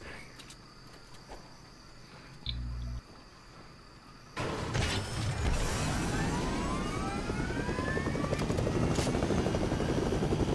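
Helicopter in the video game Fortnite, its rotor drone starting abruptly partway through and holding steady and loud to the end, over a faint insect-like hum.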